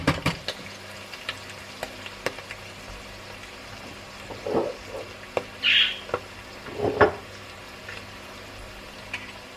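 Minced meat and onion frying in a pan, with a quiet sizzle and scattered soft crackles and pops rising now and then against low background hum.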